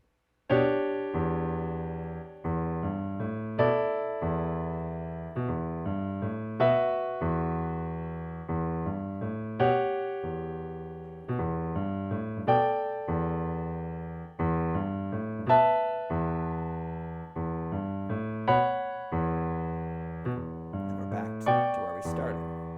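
Slow hip-hop piano chord voicings, struck one after another at a steady pace, each ringing and fading before the next, with no talking.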